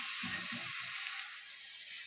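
Sweet potato sweets frying in hot oil, a soft steady sizzle with a few low bubbling pops near the start, close and fairly quiet.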